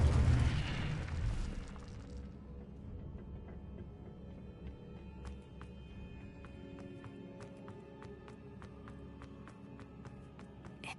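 A fire spell bursts out in Hogwarts Legacy with a loud rushing blast that fades within two seconds. Sparse, sharp magical clicks and chimes follow over a low steady game ambience.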